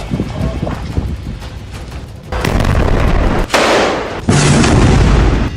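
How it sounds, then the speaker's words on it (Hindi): Heavy booms and blasts from Burkan missile strikes on a military base, a sustained loud roar that builds in stages over several seconds. "हिजबुल्लाह ने इजरायल के ठिकानों पर 4 बुरकान मिसाइलें दागी"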